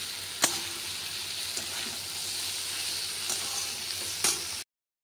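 Poppy seed curry with gourd leaves sizzles faintly in a pan, a soft steady hiss broken by a few sharp clinks of a spoon against the pan before it cuts to silence.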